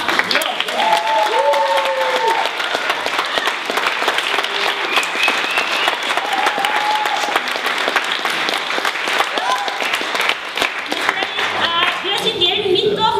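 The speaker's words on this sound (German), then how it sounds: "darum möchte ich Ihnen nochmal einen herzlichen Applaus geben" Loud, sustained applause from a crowd at a youth centre project event, with dense clapping going on for more than ten seconds while voices speak and call out underneath.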